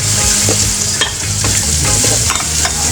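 Garlic and onion sauté in hot oil with a loud, continuous close-up sizzle, punctuated by regular scraping strokes of a spatula against the pan.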